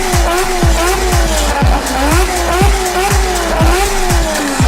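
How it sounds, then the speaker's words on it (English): A three-rotor Mazda RX-7 engine with a new exhaust revs repeatedly in quick rhythmic bursts, with a rough buzzing exhaust tone rising and falling close by. "The 3-rotor RX7 is finally going to get an exhaust"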